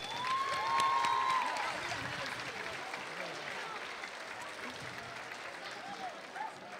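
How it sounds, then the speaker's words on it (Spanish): Audience at a school dance festival applauding a speaker, a broad wash of clapping that swells early and then fades to a steadier, softer patter, with a voice briefly audible over it. "Un aplauso para ella."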